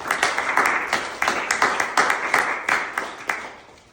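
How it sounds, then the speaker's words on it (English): Small office group applauding a colleague, distinct individual hand claps in a loose, uneven rhythm, close and fairly loud, tapering off at the end. "So, round of applause for Rona, who made this happen"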